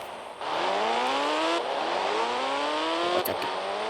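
Engine of a vehicle in a 3D Indian bike video game, revving steadily with rising pitch sweeps as it accelerates, loud and continuous with a brief gear-change dip early on and a short clatter near the end.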